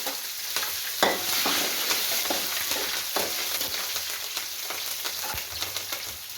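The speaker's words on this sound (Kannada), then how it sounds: "ಎಳ್ಳು ಮತ್ತು ಜೀರಿಗೆ ಹಾಕೊಳತ್ತೀನಿ, ಮೆಣಸಿನ್ಕಾಯಿ ಹಾಕೊಳಕತ್ತೀನಿ ನೋಡ್ರಿ" Sesame seeds, cumin and chillies hit hot ghee in a pan with roasted peanuts, crackling and sizzling steadily close up while a spoon stirs and scrapes now and then.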